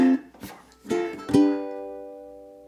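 A ukulele is played slowly in a reggae strum pattern, with a few sparse muted chops followed by a ringing chord that decays gently into silence, close and fairly quiet.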